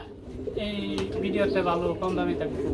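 Pigeons coo steadily in a crowded loft kept for breeding and sale, their low rolling calls layered and continuous, with a voice talking over them.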